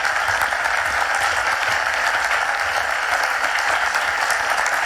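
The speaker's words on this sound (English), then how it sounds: "Let's give her a round of applause." Audience applause for a speaker at a Duke of Edinburgh's International Award Foundation event, a steady wash of many hands clapping at even loudness for about five seconds, with no talk over it.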